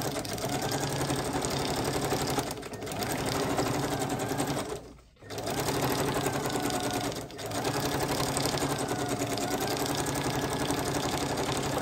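A sewing machine stitching fabric embellishments runs close and loud with a steady rapid mechanical whir, pausing briefly a few times before resuming.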